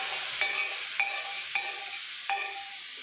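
Loud sizzling and crackling of frying, with several sharp bursts as cooked chana dal is tipped from a pressure cooker and stirred into hot tempering spices in the pan.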